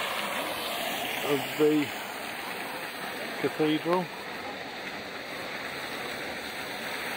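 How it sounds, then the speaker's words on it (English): A waterfall in front of Berlin Cathedral gives a steady, even rush of falling water throughout, with people speaking briefly over it twice. "Nice waterfall out the front"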